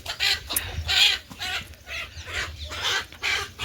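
A big farmyard rooster calls out in a series of loud, close, uneven bursts with short gaps between them, rising and falling over a few seconds with no talking.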